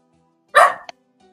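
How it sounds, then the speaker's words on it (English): A single sharp dog bark, close and loud, followed by a brief faint yip, then quiet. "Her barking is bothering me."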